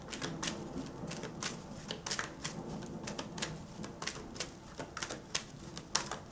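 A tarot card drawn from a deck during a pick-a-card reading, heard as a run of sharp, papery flicks and snaps repeating in quick irregular bursts, close and fairly soft, with no talking.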